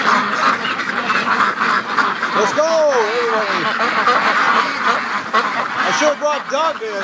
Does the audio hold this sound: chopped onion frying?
no